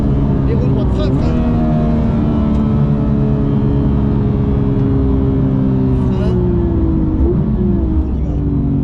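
A Porsche GT3 Touring with a manual gearbox accelerates on a track, its engine a loud, steady drone that slowly drops in pitch, while people talk in French over it.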